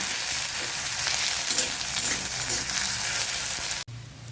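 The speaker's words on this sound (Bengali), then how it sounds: "এখানে আমি একটি পেঁয়াজকে তেলে দিয়ে দেব।" Onion fries in hot oil with a loud, steady close-up sizzle that cuts off abruptly near the end.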